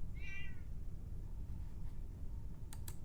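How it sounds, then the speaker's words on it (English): An angry house cat in the survival game 60 Seconds lets out a single loud, harmonic meow near the start, followed by low background rumble and a couple of brief clicks near the end. "It turned out to be just an angry house cat."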